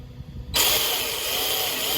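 A race car engine with a snapped axle bursts into a loud, steady rev after a short quiet start, holding a sustained roar to the end.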